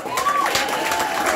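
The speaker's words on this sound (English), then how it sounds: "please give them a round of applause." Crowd at a Pittsburgh city council announcement event clapping and cheering, a fairly loud burst of applause with a whistle-like tone and scattered voices mixed in.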